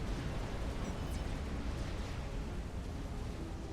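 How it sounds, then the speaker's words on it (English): A Cybran nuclear missile detonates in the real-time strategy game Supreme Commander: Forged Alliance, producing a dense, roaring, steady blast of broadband noise that holds loud for several seconds before easing slightly. "We'll go ahead and watch this nuke go boom."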